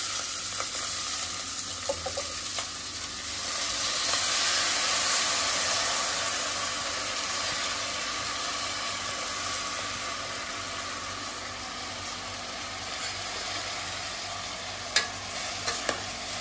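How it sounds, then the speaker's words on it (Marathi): Drained rice sautéed in a hot oil tempering for prawn rice, a continuous soft sizzle with scraping stirs and occasional light clicks, close and steady throughout. "तेलावरती थोडं आपण फोडणीवरती परतून घ्यायचे तांदूळ"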